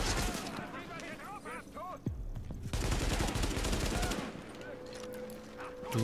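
Gunfire in the shooter video game The Division crackles in rapid bursts and single shots, fairly quiet overall, with players talking over and between the firing.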